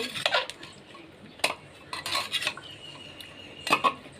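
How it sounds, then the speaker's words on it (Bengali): Jackfruit pieces are stirred in a pot with mustard oil, salt and turmeric. A metal spoon gives quiet, scattered clinks and scrapes against the pot in irregular bursts, with soft gaps of near silence between them and no talk. "1 চামচ মতো হলুদ গুঁড়ো দিয়ে একটু নেড়ে নেব"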